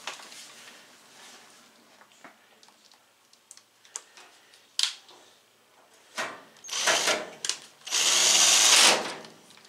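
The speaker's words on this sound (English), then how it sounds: "What I do is I spin the drill backwards first so I don't cross thread." Power drill driving self-tapping screws into the cabinet of a Whirlpool WED85HEF dryer: faint ticks and clicks at first, then two short, loud whirring bursts close by near the end, with no talking.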